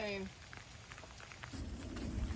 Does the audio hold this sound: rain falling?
yes